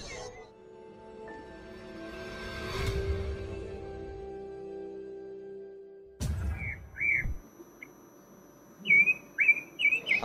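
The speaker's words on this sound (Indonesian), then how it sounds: "ini dia nih burung yang dicari-cari sama kicau mania, muncul lagi ya untuk burung endemiknya" Endemic songbird at an Indonesian bird market, heard as a few short bright chirps and whistled calls in the second half after a quiet stretch with faint hum and background noise.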